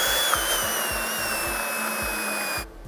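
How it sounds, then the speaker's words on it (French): Immersion blender mixing a smooth, glossy chocolate ganache made with 64% chocolate, a steady high motor whine with regular low churning pulses, running alone before cutting off abruptly near the end. "pour avoir quelque chose de vraiment très lisse, très brillant, je vais mixer un petit peu avec une girafe"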